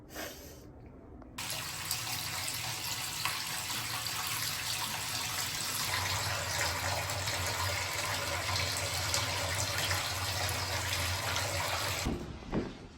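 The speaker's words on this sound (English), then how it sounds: "let me run my bath" A bath tap runs to fill a bath in a home, a steady loud gush of water pouring continuously for over ten seconds after a brief quiet start, then cut off near the end.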